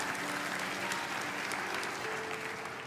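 Steady, dense applause from a church congregation, a broad wash of many hands clapping continuously at even loudness throughout, with no voices on top.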